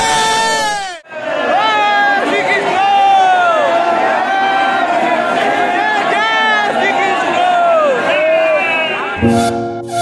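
A dense festival crowd at Holi in Vrindavan near the Banke Bihari temple shouts and chants together, loud and close, with many overlapping voices rising and falling before a brief break near the end.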